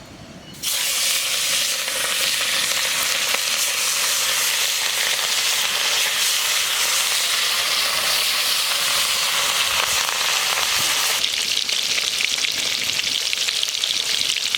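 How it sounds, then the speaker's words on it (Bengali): Hilsa fish pieces drop into very hot oil and fry with a loud, continuous sizzle and hiss that starts abruptly and holds steady, close to the pan. "তেলটা খুব গরম করে নিয়েছি এখন ইলিশ মাছ ছাড়বো"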